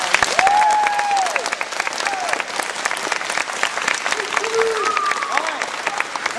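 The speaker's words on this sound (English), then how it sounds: "I think we need to give Cody a big round of applause." A crowd at a camp breaks into loud, dense applause with some whoops and cheers, voices calling out over the sustained clapping close by.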